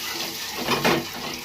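Water poured into a vessel while cooking at home, a short steady splashing stream that swells briefly near the middle, close by with no talk.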